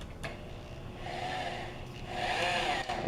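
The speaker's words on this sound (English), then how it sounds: "start with a slow speed on your drill" A power drill running at slow speed drives a 2.5 inch screw through one board into another while building a wooden catapult, a steady whirring grind that rises and strains toward the end.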